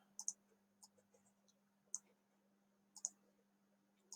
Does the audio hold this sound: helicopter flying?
no